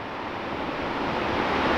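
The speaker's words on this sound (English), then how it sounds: "The waves are looking mighty and powerful as they roll and crash on into the sandbank" Pacific Ocean waves roll and crash onto a sandbank in a steady, broad wash of surf with wind rumbling across the microphone, loud and continuous without clear breaks.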